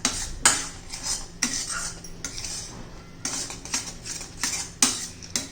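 Chocolate coconut modak mixture with cocoa powder being stirred in a pan until it thickens, a spoon repeatedly scraping and clinking against the metal in short bursts, near and fairly quiet.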